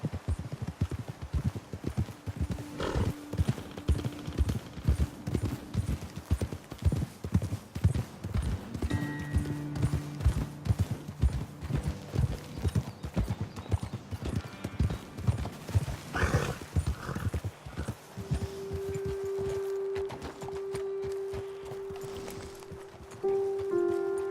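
Horses trot along in Red Dead Redemption 2, hooves clip-clopping in a quick, steady rhythm throughout, close and clear, with a faint tonal hum and small incidental sounds in the game's background.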